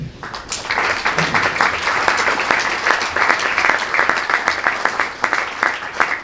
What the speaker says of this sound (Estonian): Kogu tiimile soe aplaus